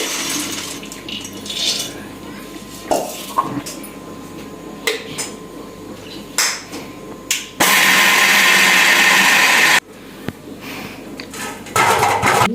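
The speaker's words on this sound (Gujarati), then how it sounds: "હવે એને મિક્સરમાં કાઢી દઈશું આપણે" Kitchen mixer grinder grinding peanuts, loud bursts of whirring separated by clattering of the jar and utensils, with one long steady grinding run near the middle.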